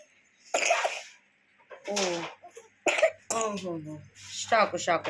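A baby coughs and sneezes in several short bursts close to the mic, with quiet gaps between them and an adult speaking nearby.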